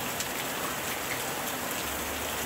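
Steady rain falls as a dense, even hiss of drops on surfaces, continuous and unbroken, with no voices or thunder.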